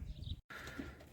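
Soft, low cooing of white pigeons close by in a dovecote, briefly cut by a moment of silence before resuming.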